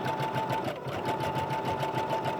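A sewing machine runs a continuous zigzag stitch over lace and fabric, a steady rapid rhythmic whirring at moderate distance with no pauses.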